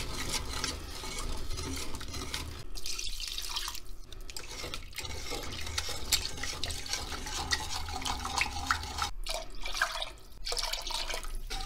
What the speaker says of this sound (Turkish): Şimdi üzerine yavaş yavaş süt ilavesi yapacağım.